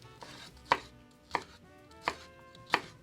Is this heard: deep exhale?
no